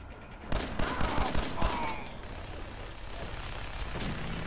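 Burst of rapid gunfire in Fallout 4, a string of sharp cracks clustered over a second or so, followed by lingering rumble and ambient noise.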